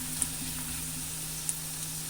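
Whole spices fry in hot oil with a steady soft sizzle, quiet and even, broken by two tiny pops, with no voices.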